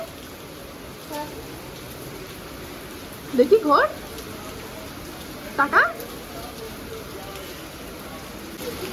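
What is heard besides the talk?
heavy rain pouring down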